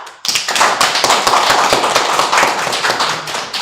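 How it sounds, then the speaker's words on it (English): Audience applause breaking out at the opening of an international technology, informatics and engineering conference, just after a ceremonial gong; dense sustained clapping from a large room, loud and steady for several seconds. "Give applause."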